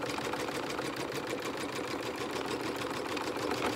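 An embroidery machine stitching metallic thread onto apparel faux leather, a rapid, even mechanical rattle of needle strokes that continues steadily and close throughout.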